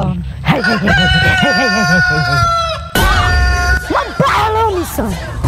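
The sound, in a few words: rooster crowing and chickens clucking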